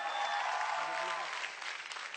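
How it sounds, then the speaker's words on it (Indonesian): Audience applause for a stand-up comedian at an Indonesian comedy show, a dense, steady wash of clapping from a crowd that holds for about two seconds with no speech over it. "Tepuk tangan saya lagi"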